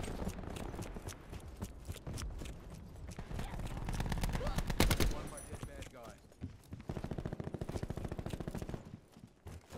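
Rapid gunfire from a video game gun rattles in dense, continuous bursts, with a brief louder blast midway and steady firing resuming afterward, and speech mixed in.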